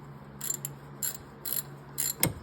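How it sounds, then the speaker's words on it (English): Ratchet clicking in several short bursts while a catalytic converter manifold is tightened on a 2015 Honda Fit during a head gasket job, close and fairly loud with pauses between strokes and a final metallic knock. "Marc's tightening up the catalytic converter manifold."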